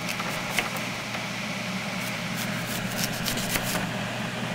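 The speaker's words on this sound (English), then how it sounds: "And then you're just going to cut them into basically slices, once again, a 1/4 inch thickness or less." A knife cuts an apple into thin slices about a quarter inch thick, a few crisp, brief slicing strokes over a constant mechanical hum in the room.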